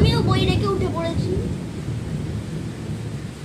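Kalbaishakhi thunderstorm with heavy rain at Baruipur old market, a low rumble of thunder and steady rain noise, with a brief voice-like tonal sound near the start.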